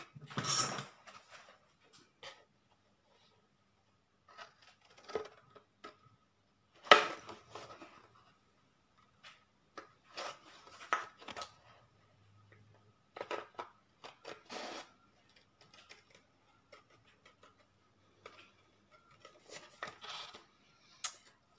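Scissors snipping a paper circle for a junk journal envelope insert, with quiet intermittent cuts and rustles spread across the clip and no talking.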